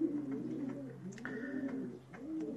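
Racing pigeons coo softly nearby inside a loft in repeated low, throaty warbles, with a faint higher tone partway through.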